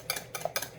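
A whisk beats cream cheese filling for a cherry cheese coffee cake in a bowl, making about four quick scraping, swishing strokes in a soft, steady rhythm, close and quiet with no talking.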